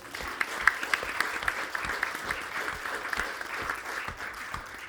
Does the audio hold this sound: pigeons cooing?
no